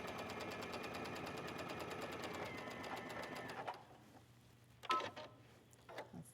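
A sewing machine stitches a scarf seam in a fast, even whir for several seconds, then stops, followed by a few sharp clicks and handling noises in a quiet room.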